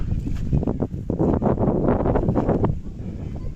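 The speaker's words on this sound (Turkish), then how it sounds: "Aşırı bir rüzgar var" Strong wind buffeting the microphone, a loud continuous rumble with gusty surges and rustling throughout, no voices.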